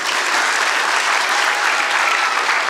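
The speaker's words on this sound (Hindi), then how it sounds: "मैं चाहूँगी इन छोटे बच्चों के लिए इन सभी शिक्षकों की एक बार जोरदार तालियां हो जाए।" Loud, dense audience applause for young children and their teachers at a school event, a steady wall of clapping from many hands that holds evenly throughout without pause.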